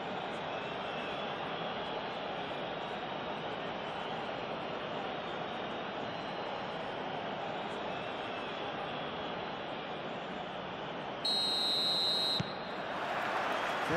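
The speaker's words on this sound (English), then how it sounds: "There's the whistle, and here we go." Referee whistle in the PES 21 football video game during a simulated Mexico vs South Africa World Cup 2026 match, one sustained shrill blast of about a second over steady stadium crowd noise, followed by louder crowd roar.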